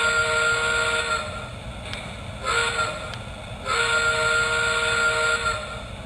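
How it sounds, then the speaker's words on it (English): A Lionel Santa Fe LionChief Plus Hudson model locomotive sounds its steam whistle in two long blasts separated by a brief pause, a sustained multi-tone chord heard close and clear. "let's take a quick listen to the whistle."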